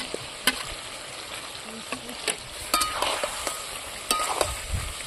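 Boiled potatoes and green chillies being stirred into a simmering yogurt chicken curry in a pan, a close sizzle broken by irregular clinks and scrapes of the spoon against the pot.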